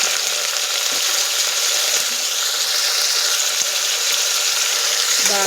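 Green chilli, tomato and onion pieces fry in a pan for tomato rice, giving a steady, loud broadband sizzle that holds evenly throughout with faint scattered ticks and pops.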